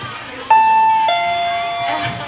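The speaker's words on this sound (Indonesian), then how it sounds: "Udah bel tuh." A school bell or doorbell-style chime rings loudly in two clear tones, with a lingering ring that fades while voices talk in the background.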